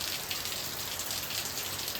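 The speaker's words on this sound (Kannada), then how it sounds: "ಇವತ್ತು ಬೆಳಿಗ್ಗೆನೇ ನೋಡಿ ಜೋರು ಮಳೆ ಬರ್ತಾ ಇದೆ" Heavy rain pours down steadily on a morning, a dense continuous hiss of drops hitting surfaces close by, even and unbroken throughout with no voices.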